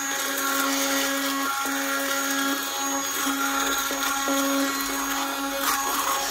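A stick blender whirs steadily while beating eggs, a close, constant motor whine with brief dips and restarts as it works through the mix.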